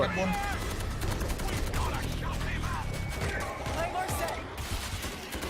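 Rapid bursts of automatic gunfire crackle continuously in the co-op zombie shooter World War Z, dense and loud, while players talk over the shooting.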